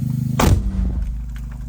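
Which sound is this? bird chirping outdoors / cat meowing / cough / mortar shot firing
mortar shot firing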